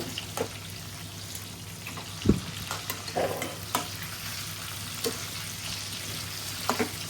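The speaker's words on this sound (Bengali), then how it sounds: "যেহেতু বড় চিংড়ি মাছ, এর জন্য একটু ভালো করে ভেজে নেব।" Soft, steady sizzling of large prawns frying in a pan, broken by occasional clinks and scrapes of stirring.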